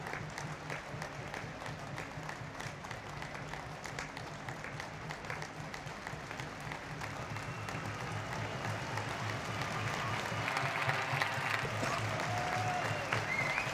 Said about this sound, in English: standing ovation from the fans.